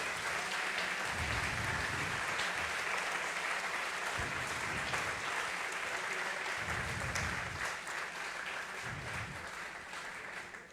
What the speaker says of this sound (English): Let's give those 5 people a great round of applause.